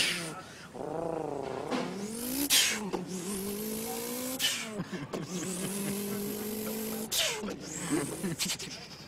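A voice imitates a rally car with a boxer engine and working wastegate, with rising and falling revving pitches and sharp bursts across the whole stretch, loud and close, alone without other talk.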